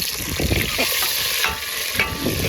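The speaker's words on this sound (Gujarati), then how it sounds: "આપણે નાખી ભાઈ ટમેટા જો મસ્ત મજાના ટમેટા નાખી દઈએ" Tomatoes fry in hot oil and are stirred, giving a loud, continuous close sizzle with scraping stirring strokes and no talking.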